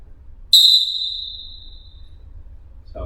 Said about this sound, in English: Keep that whistle close so you can blow it